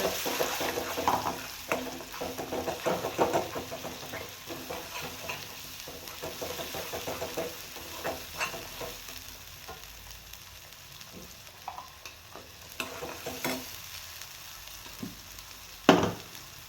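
Ground masala paste fries in oil in a pan for a Bombay duck curry, a continuous low sizzle broken by frequent spatula scrapes and stirring clatter, close by, ending with a sharp knock.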